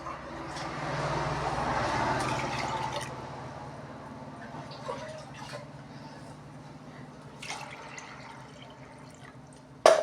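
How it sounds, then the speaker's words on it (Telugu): Water poured from a glass into a pot of chana dal, about three glasses in all, makes a soft splashing pour that is strongest early and then tapers into faint trickles and drips, with a sharp clink at the end. "ఇది 1/2 లీటరు, ఒక 3 గ్లాస్ నీళ్ళు పోసుకోవాలండి"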